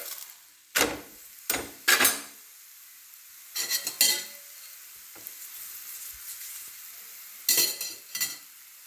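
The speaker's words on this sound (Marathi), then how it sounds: "दोन्ही साईडनी पोळीला तेल लावून छान भाजून घ्यायचे आहे" Sanja poli flatbread roasting with oil on a hot tawa: several short, sharp spatula scrapes and flips come in separate bursts over a faint, steady low sizzle, close and fairly quiet.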